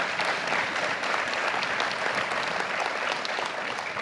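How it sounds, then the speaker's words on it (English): A room of guests at a congressional law enforcement award ceremony gives a steady, dense round of applause, even and sustained throughout with no voices over it. "Also, Gary's brother, Don, let's give him a round of applause."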